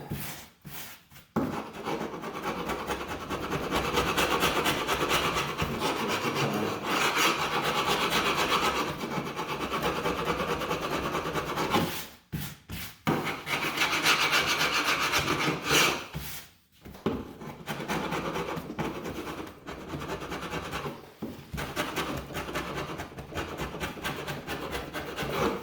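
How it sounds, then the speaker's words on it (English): A hand scraper grinds felt residue off the back rail of an old Steinway piano, a continuous close rasping rub in long strokes, pausing briefly a few times between passes. "Scraping"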